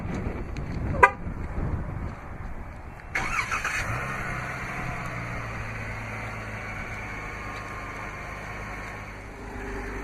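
A 2016 Chrysler 300S AWD starting by remote: a short horn chirp, then the engine cranks and catches into a steady close idle.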